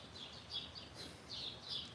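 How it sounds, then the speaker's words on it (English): Backyard birds chirping in the morning, a few faint, high, repeated calls spaced in short bursts against a quiet outdoor background. "Sometimes they always come to my backyard squawking."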